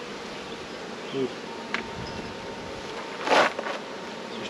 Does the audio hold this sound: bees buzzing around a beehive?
yes